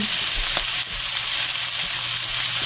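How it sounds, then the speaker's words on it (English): Sausage and celery browning in a pan with no added oil, only the sausage grease: a loud, dense, continuous hissing sizzle close up, with a couple of faint knocks. "The celery's cooked and the sausage is browning."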